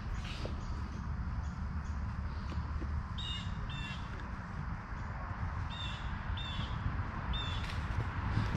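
A crow caws repeatedly outdoors on a golf course at Chippewa Banks in Midland, the calls coming in short pairs over a loud, steady wind-like background.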